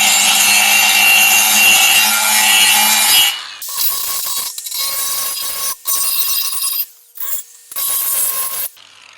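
Dagmara cordless angle grinder cutting with a loud, harsh grinding whine, first running continuously for about three seconds and then in several short bursts separated by brief pauses.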